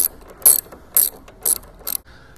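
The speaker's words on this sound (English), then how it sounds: "Now we can put our 10 millimeter antenna bolts back in" Four short, crisp ratchet bursts evenly spaced about half a second apart as a hand ratchet snugs 10 mm antenna bolts on a 2023 GMC Sierra 2500HD AT4, close and clear with no talking.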